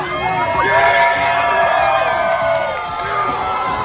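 Wrestling crowd at an indie pro wrestling show cheering and whooping loudly, a dense sustained roar of many voices with shouts and yells rising and falling throughout.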